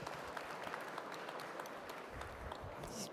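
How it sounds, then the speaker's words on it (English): Quiet applause from an audience at a ministers' tourism summit, a soft, even patter of many hands clapping at a distance, continuing steadily without voices over it. "A round of applause for you there."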